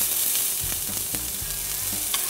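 Finely chopped garlic and white onion sautéing in oil in a pot, giving a steady close sizzle with faint stirring scrapes over a continuous frying hiss.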